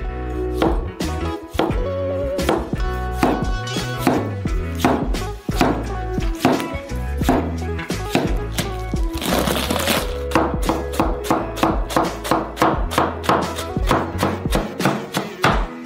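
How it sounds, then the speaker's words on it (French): Tomatoes sliced on a cutting board, a fast, even series of knife chops knocking against the board, close and fairly loud throughout. "Les tomates sont coupées en tranches."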